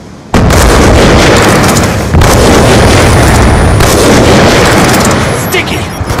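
Called-in airstrike explosions in a shooter video game, a loud sustained roar of blasts with a sharp onset and renewed bursts partway through, dense rumbling throughout alongside faint high whistling tones.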